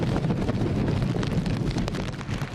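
Storm Tapah drives strong wind and heavy rain across Tolo Harbour, a loud, continuous roar buffeting the microphone with a deep rumble throughout.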